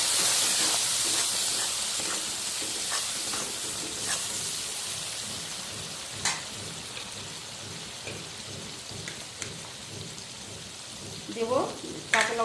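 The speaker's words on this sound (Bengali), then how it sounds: "মশলাগুলোকে কষিয়ে নেব।" Ground spices, including red chili powder, fry in a pan over low to medium gas flame, giving a steady hiss and crackle that fades gradually, with occasional clicks and stirring sounds and some speech at the end.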